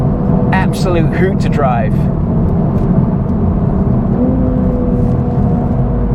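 A 2023 Toyota Supra with a manual gearbox accelerates, its engine drone steady and loud from the cabin with a tone that climbs through a gear, while someone talks over it.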